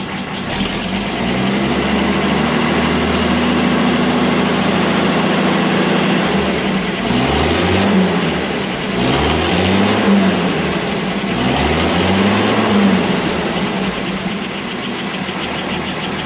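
A Second World War Karrier K6 truck engine idles, heard from underneath the vehicle: a loud, steady low rumble with a rhythmic wavering pulse that swells and fades several times over about sixteen seconds.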